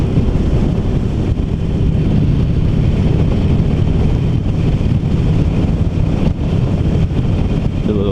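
A 2019 Harley-Davidson Iron 1200 motorcycle engine rumbles steadily while riding, a loud continuous low drone heavily mixed with wind buffeting the microphone, with no talking.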